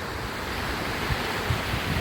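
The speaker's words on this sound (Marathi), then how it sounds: "पाणी लय वाजते" Steady roar of rushing floodwater, a dense continuous wash of noise with low rumbles and some wind buffeting.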